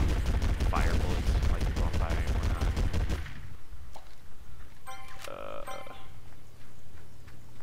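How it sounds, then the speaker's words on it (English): Gunfire in Battlefield Heroes rattles in a loud rapid automatic burst for about three seconds, then gives way to quieter game effects with a few scattered tones, and a voice speaks over it. "fire bullets"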